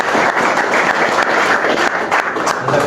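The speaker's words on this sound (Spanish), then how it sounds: "Entonces un fuerte aplauso por favor para..." Loud, dense applause from an audience at a cooperative's World Milk Day celebration, sustained clapping from many people filling the space without pause.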